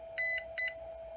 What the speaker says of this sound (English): there was 2 beeps and followed by another 2 beeps